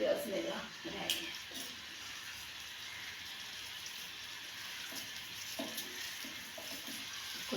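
Onions frying in a pan for vegetable rice, a continuous soft sizzle with occasional stirring scrapes near the start and end, moderately close, with someone talking over it.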